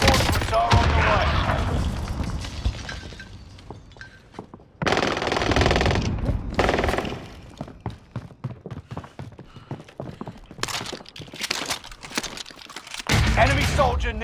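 Bursts of automatic gunfire in a video game firefight, rapid machine-gun rattles and single shots coming in loud clusters with brief gaps, mixed with in-game radio voices calling out.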